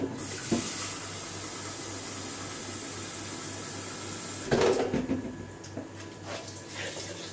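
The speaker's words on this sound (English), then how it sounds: "what we're going to do is just add a little touch more water to it" Tap water running into a cooking pan while making cottage pie, a steady rushing flow that swells and splashes louder near the end before easing off, close by and alone with no talking.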